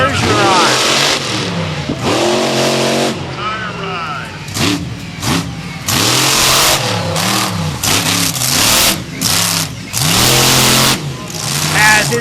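A General Tire monster truck engine revs hard again and again during a freestyle run, loud and close, rising and falling in bursts while an announcer talks over the roar.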